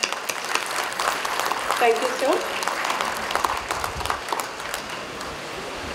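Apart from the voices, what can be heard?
audience applause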